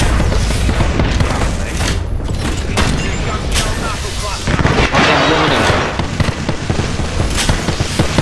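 Grenade blasts and gunfire from a team match of Apex Legends boom repeatedly at close range, with loud, dense bursts throughout and voices talking over the action.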